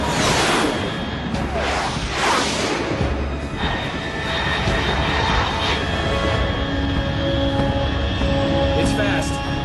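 A fast aircraft in Metal Gear Solid 3 whooshes overhead as a loud, broad roar that swells and fades, with faint tonal game sounds underneath.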